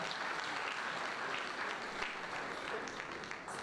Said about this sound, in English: Is that applause for me or for them?